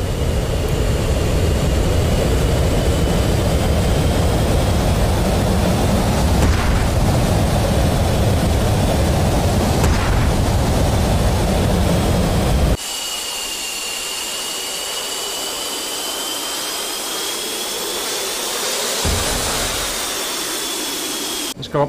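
Jet engines of a fighter such as the F-15C or Su-27 in the DCS flight simulator, a loud steady roaring rumble with a high whine, then a sudden switch to a thinner, higher whining tone.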